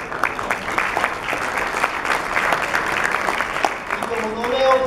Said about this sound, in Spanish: Ellos son Instituto Raíz, para quien yo pido un fuerte aplauso.